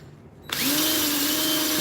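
A power tool cleans up, rounds and bevels a simple metal ring, spinning up abruptly from quiet into a loud, steady high whine that holds with a slight rise in pitch.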